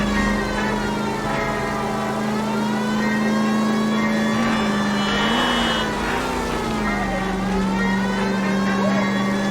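A car engine in the video game L.A. Noire drones steadily and loudly throughout, its pitch rising and dipping as it revs and eases, like a vehicle being driven hard.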